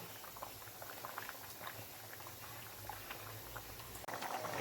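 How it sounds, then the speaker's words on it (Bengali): Water boils in a cooking pot for fish, a steady close bubbling and popping patter with no voices. "জলটা ফুটছে"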